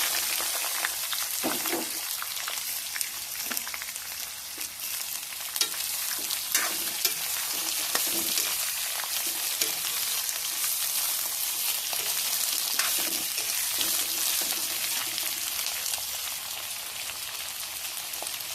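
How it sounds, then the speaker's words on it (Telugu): Ivy gourd fries in oil with a loud, steady sizzle that holds throughout, broken by occasional scraping and stirring noises close by. "కళాయిలో నూనె వేసుకొని తాలింపు గింజలు కరివేపత్తి వేసి"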